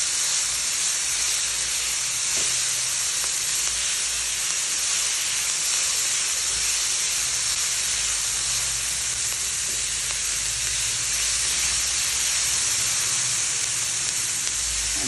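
Onion, tomato and capsicum fry in a pan over high heat, giving a steady, dense sizzle with a broad hiss that runs unbroken from start to finish, close and fairly loud.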